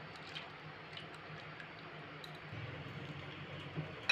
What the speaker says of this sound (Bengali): এবার ভালো করে ধুয়ে নেব।